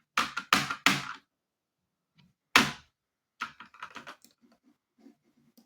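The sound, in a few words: computer keyboard typing and keys being pressed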